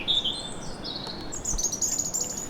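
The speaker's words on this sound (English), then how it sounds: "When all of the birds are singing together first thing in the morning, it's called the dawn chorus." Many birds sing together at first light in a dawn chorus, overlapping high chirps and trills layered continuously at moderate loudness with no voices.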